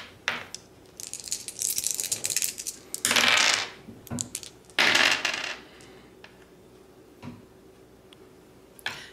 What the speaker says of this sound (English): So now it's time to roll the dice again.